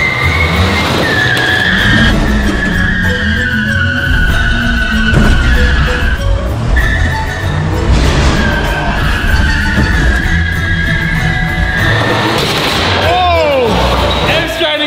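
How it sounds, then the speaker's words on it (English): Three mini trucks skidding while pulling a room off a structure, with loud tire squeals, engine noise and wheel scrabbling repeating over the whole stretch, mixed with voices. "hook up all three of the mini trucks and pull this room that we don't want"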